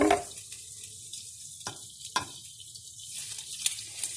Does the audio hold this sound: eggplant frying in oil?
yes